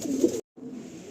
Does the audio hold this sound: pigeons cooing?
yes